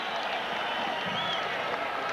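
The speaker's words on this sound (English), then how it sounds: "And the fans again are on their feet." Crowd of about 14,300 fans at an NCAA college wrestling match between Iowa State and Iowa cheering on their feet, a dense, continuous arena roar mixed with clapping and a commentator talking over it.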